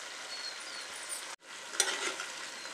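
Chicken being stirred in a hot pan with garam masala and pepper powder, a steady soft sizzle and scrape with a brief gap, then a sharper spoon-against-pan scrape near the end.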